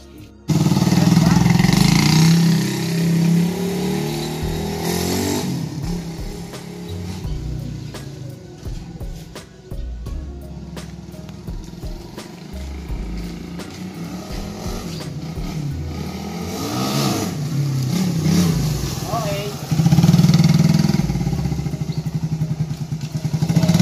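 Honda-style Raider R150 motorcycle engine running on a test ride after an oil change, a steady close engine drone with revving swells and road noise, no talk.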